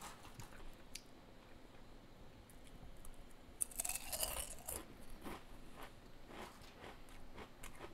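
Crunchy chewing of deep-fried snacks about a week old, with soft bites and crunches repeating close to the mic through the stretch and a louder burst of crunching near the middle.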